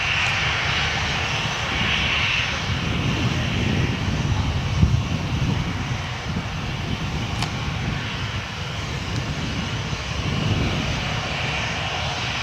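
A Cessna light aircraft landing at Gold Coast Airport makes a continuous, fairly loud propeller-engine drone that holds for the whole twelve seconds, with faint pulsing swells and no voices.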